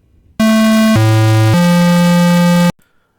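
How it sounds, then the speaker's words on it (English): A bright, buzzy square-wave chiptune lead synth in Musicline Editor plays three sustained notes in sequence, loud and retro-sounding, then cuts off abruptly. "Let's make some chiptune sounds."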